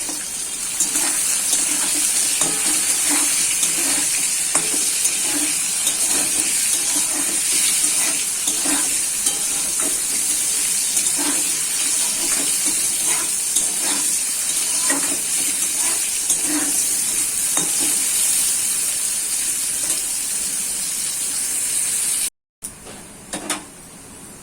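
Bitter gourd frying in a pan with turmeric and salt, a steady hissing sizzle with occasional stirring scrapes that runs evenly and cuts off abruptly near the end.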